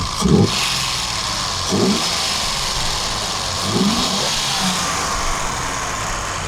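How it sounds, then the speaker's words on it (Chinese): A Mercedes-Benz W116 280 SEL engine hums steadily close by during an engine test, with a few brief revs rising above the even drone. "我们再推个油门"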